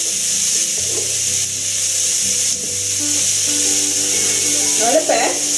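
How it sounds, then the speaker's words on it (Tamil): Ingredients stir-fry in a pan for goat blood fry, a continuous sizzle with occasional scraping stirs under a steady hum, fairly loud and close. "அதையும் நல்லா பரட்டி விட்டு கொஞ்சம் சிவந்த வர மாதிரி நம்ம பரட்டி விடணும்"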